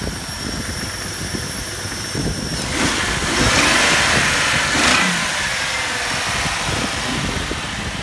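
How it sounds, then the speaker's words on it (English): A 2001 Jeep Grand Cherokee with a 4.0 liter engine running, a steady mid-pitched idle that swells into a rev near the middle before settling back, close and fairly loud, with no talking. "2001 Jeep Grand Cherokee,"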